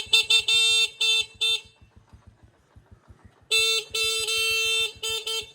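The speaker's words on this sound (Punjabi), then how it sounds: "ਲੰਮੇ ਹਾਰਨ ਮਾਰਨੇ ਪੈਣੇ" A car horn honks at a closed gate in repeated bursts, three short toots, then a pause with an idling engine, then a long blast followed by two more short honks, loud and close.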